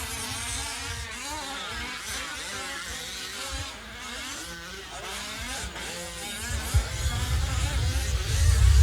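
Several fifth-scale RC trucks race around a track in a main event, their small high-revving engines buzzing and droning together continuously, swelling louder near the end as they pass close.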